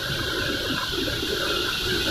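Fast-flowing, clear, icy-cold water of Kutton Waterfall in the Neelam Valley, Azad Kashmir, pours as a steady, dense rushing roar, close and unbroken, with no voices.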